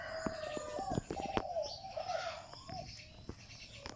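A tame junglefowl decoy rooster crows with a deep, hearty voice, several drawn-out calls rising and falling near the microphone, with clucks, background birds and crickets around it.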